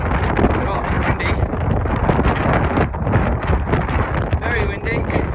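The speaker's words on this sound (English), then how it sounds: "Very windy." Strong, constant wind on the summit of Cadair Berwyn or Moel Sych buffets the microphone in a loud, rumbling roar with gusting flutter throughout, and a voice speaks faintly beneath it.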